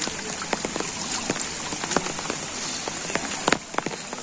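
Heavy rain falls in a village, pattering steadily on surfaces with scattered louder drops close by, a continuous wash of sound with no voices.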